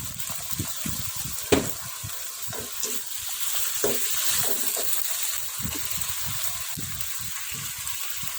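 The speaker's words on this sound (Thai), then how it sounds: "แล้วก็ผัดคนให้เข้ากันนะคะ" Frog meat with local herbs such as fingerroot, fresh green peppercorns and chilies is stir-fried in a pan, giving a steady sizzle broken by repeated scraping and clattering strokes of a spatula.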